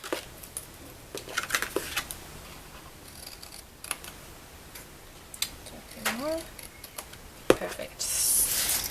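Paper trimmed for a Stampin' Up! stationery box, with a few soft scattered cutting ticks and slides close by, interspersed with quiet handling sounds.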